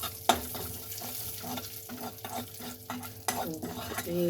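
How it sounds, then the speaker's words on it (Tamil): Turmeric powder and salt fry in oil for an egg fry, giving a constant close sizzle with regular scraping strokes of a spoon against the pan and a louder clack near the start, and no voices. "மஞ்சள் தூள், அப்புறம் சால்ட், இது மூணுத்தையும் கொஞ்சம் எண்ணெயிலே ஃப்ரை பண்ணிடுறேன்"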